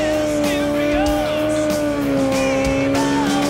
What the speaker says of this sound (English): So this is what we're doing just now, is just getting the bike up to an RPM